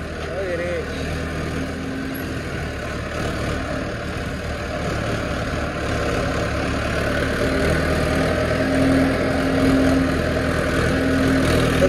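A farm tractor hauling a plank load runs steadily at close range, its engine a continuous low idle-like drone that gradually grows slightly louder, with people's voices mixed in underneath.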